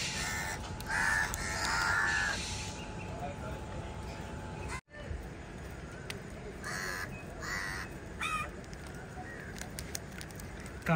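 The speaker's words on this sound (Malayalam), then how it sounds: "കാക്കകൾ മൊത്തം വളഞ്ഞല്ലോ അവന്." Crows caw repeatedly around a dog eating biscuits, the calls rising in short bursts over a steady outdoor background with faint voices nearby.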